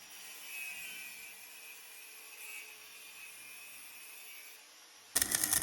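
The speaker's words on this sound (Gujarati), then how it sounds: "મશીનથી કામ કરી રહ્યા છે. જ્યાં વેલ્ડિંગ હતું ત્યાં ઘસીવાનું કામકાજ કરી રહ્યા છે." An angle grinder works a welded joint on farm equipment outdoors, giving a steady, moderately loud abrasive whine that holds for about five seconds before a sharp, louder burst of broadband noise at the end.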